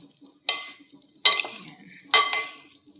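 A potato and carrot salad seasoned with salt and black pepper is stirred in a bowl: three distinct scraping, clinking strokes spaced about a second apart, close and fairly loud, with quiet pauses between.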